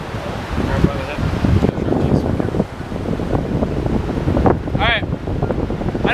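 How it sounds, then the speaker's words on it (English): Wind buffeting the microphone on Jacksonville Beach in Florida during surf fishing, a continuous rumbling roar with surf underneath and a brief squeaky sound near the end. "I know it's probably windy"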